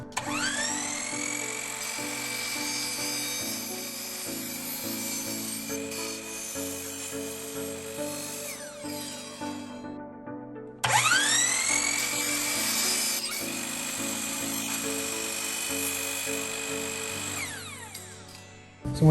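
Power tool cutting PVC pipe for a hydroponic aeroponics tower build: a loud, close, high whine runs steadily, spins down, then restarts for a second long cut before winding down again.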